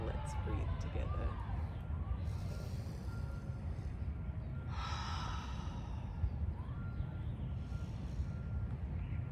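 Slow, deep breaths are drawn in and let out during a guided meditation, a soft whooshing exhale rising above a quiet, muffled background.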